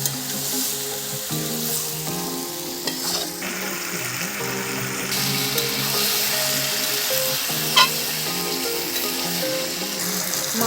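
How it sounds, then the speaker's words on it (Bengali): Water used to rinse the spice bowl is poured into a pan of well-fried chicken curry with potatoes, and the hot oil and spices give a steady, close sizzle with bubbling over a sustained tonal background. "এবারে সেই মশলা ধোয়ার জলটা একটু দিয়ে দেওয়া হলো"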